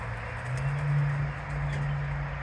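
Racing pigeons coo in their flight pen, a steady low murmuring that swells and eases over a constant background hum, close by and with no voices.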